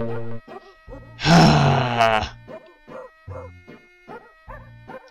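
Dogs bark in a steady rhythm through Lemmings game music, with one longer harsh noisy burst in the middle, loud and up close.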